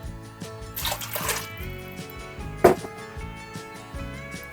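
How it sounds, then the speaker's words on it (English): Water is poured into a pot of dried black-eyed peas in a home kitchen, a short rushing splash near the start, then a single sharp knock, with faint steady tones running underneath. "And I'm going to have 6 cups of water."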